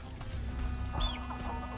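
Video-game chickens cluck quietly over a low background hum, with a couple of short squawking calls partway through.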